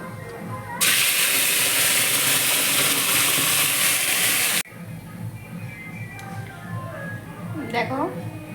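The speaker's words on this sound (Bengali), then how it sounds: "আর এই তেলের উপরে কালো জিরেটা দেবো" Nigella seeds hit hot oil in a home kitchen, setting off a sudden loud, even sizzle that lasts about four seconds before cutting off, followed by quieter cooking sounds and someone talking.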